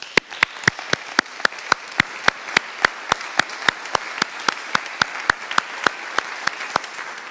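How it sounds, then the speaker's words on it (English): At a climate economics lecture event, an audience claps in a loud, steady, evenly spaced rhythm of sharp claps that carries on without pause. "Christine, Franziska, Tanja, and Gernot, a big round of applause"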